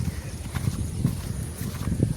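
A cow's calf's hooves clop on hard ground nearby at a temple, a handful of slow, uneven steps over a low background hum.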